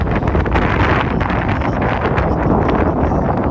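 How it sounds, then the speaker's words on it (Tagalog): Strong wind at night on The Peak in Hong Kong buffets the microphone with loud, continuous roaring rumble and gusty bursts, drowning out everything else. "may napakalakas po ng hangin. Sa tenga"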